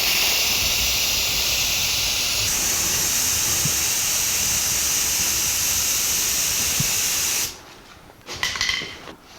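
A steady, loud spray-can hiss lays down a coat of semi-gloss black paint on Jeep CJ7 rock slider trim, running continuously for several seconds before cutting off, followed by a few brief rustles.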